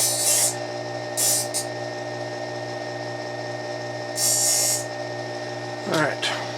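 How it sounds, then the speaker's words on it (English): A sander hums steadily as a brass part is touched up on it, with a few louder grinding bursts when the metal is pressed against it. "We'll touch it up on the sander"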